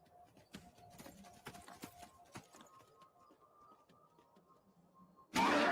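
Horse hooves clip-clop in Skyrim, faint, irregular impacts spaced through the first half with a soft tone underneath, ending in a sudden loud burst.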